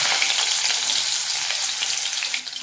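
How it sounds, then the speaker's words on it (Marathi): Onion and green chili sautéing in heated oil in a kadhai: a loud, dense sizzle runs continuously up close, fading slightly at the very end. "हे असं कांदा चांगला परतून घ्यायचा आहे"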